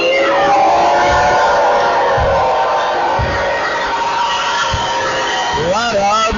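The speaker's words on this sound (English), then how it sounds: "the crowd trying to get in his head" Basketball crowd at a packed high school game roaring, whistling and yelling to distract a free-throw shooter, a loud sustained wall of noise with voices rising near the end.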